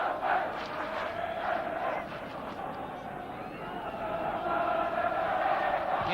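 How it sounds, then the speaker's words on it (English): A large football crowd at Eastville Stadium jeers a player during Bristol Rovers versus Aston Villa in 1974, a loud rolling roar that swells toward the end beneath a commentator's voice. "The crowd give him the bird."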